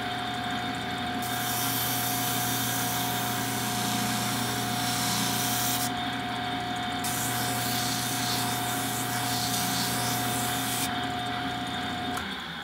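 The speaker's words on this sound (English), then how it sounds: "when you're using a drum sander like this" A drum sander rounds and smooths the cut edges of leather pieces, a steady continuous abrasive rubbing over a constant motor whine, with brief lighter gaps where the piece is lifted away.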